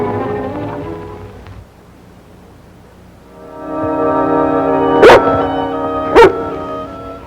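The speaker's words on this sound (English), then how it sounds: "Roy's wonder dog, Bullet" Bullet, a dog, whimpers and yips in a rising whine, then lets out two sharp, loud barks about a second apart.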